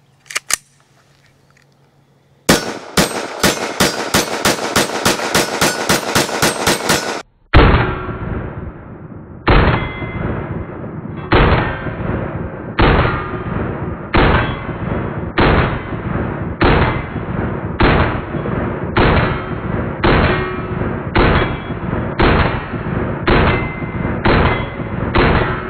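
Walther WMP .22 Magnum pistol fired at an outdoor range, a rapid string of sharp cracks, then a slower, evenly spaced series of loud shots with metallic ringing tails, close and clear.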